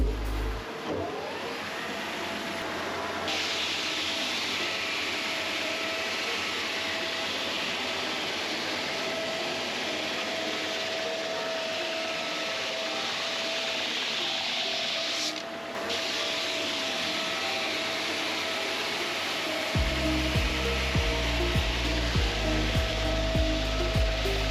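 A snowboard base is fed through a tuning machine, giving a loud, steady mechanical whir and grinding hiss that runs continuously, then shifts into a lower, pulsing drone near the end.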